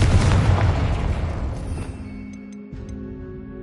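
A Confringo blasting spell explodes in the Hogwarts Legacy video game, a heavy booming blast that decays into a rumbling tail with faint magical tones, alone without talk.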